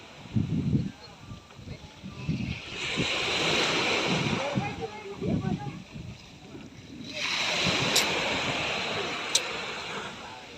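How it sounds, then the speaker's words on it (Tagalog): Strong wind gusts and rough sea waves wash and slosh around a small fishing boat in open water, loud surges rising and falling close by, with someone talking intermittently over them. "Mahangin tsaka malakas ang dagat dyan sa may gitna"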